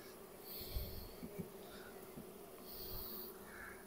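Honeybees buzz faintly around an open hive while a large swarm is being set up, a low, steady insect hum with a few brief louder passes close by.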